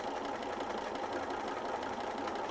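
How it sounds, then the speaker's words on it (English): A sewing machine stitching around a fabric shape, a close, continuous rapid whirring hum with an even mechanical rhythm and no pauses. "you take it to the machine and you sew around"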